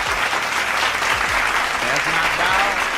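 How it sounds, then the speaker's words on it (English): Audience applause for a sports talk show, a loud, steady wash of clapping from a crowd throughout, with a voice speaking over it. "y'all clap it up"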